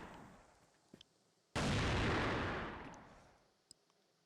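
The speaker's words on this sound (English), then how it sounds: "Just going back and forth with the nades, but not much damage." A single loud grenade blast in Counter-Strike during a competitive esports match erupts suddenly, a broad roaring burst that decays over about a second and a half, preceded by faint clicks and followed by a small distant pop.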